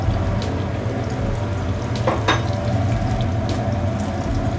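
Fish sears in a pan of clarified butter and whole butter, giving a loud, steady sizzle and crackle with a few brief sharper spits partway through.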